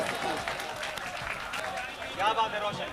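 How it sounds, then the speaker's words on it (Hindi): Steady applause from an audience greets a ghazal singer taking the stage. It carries on as a continuous wash of clapping under crowd murmur and a voice talking over it. "ये तालियां कम है दोस्तों, जोरदार तालियों से आप इस्तकबाल कीजिएगा।"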